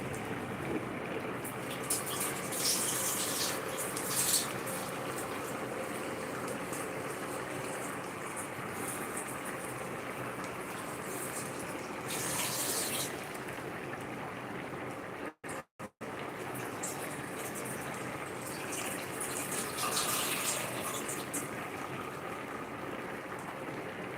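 Rice being rinsed in water while cooking curry rice with vegetables, heard as a steady close swishing and trickling wash that runs continuously, with a few brief gaps and no talking.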